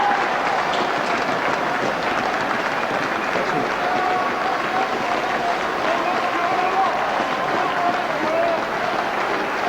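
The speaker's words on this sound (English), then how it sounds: "warmly applauded by the crowd" A rugby league cup match crowd at Hull KR versus Keighley applauds the players leaving the field, a dense, steady wash of clapping that fills the whole stretch without pause, with commentary voices faintly under it.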